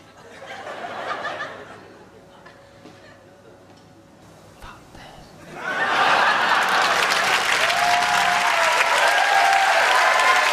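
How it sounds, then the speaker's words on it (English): A studio audience bursts into loud, sustained applause for a comedy show guest, swelling in after a quieter stretch of murmuring and light laughter and then holding steady to the end. "Round of applause for Amy"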